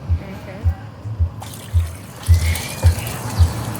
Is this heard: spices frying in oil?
no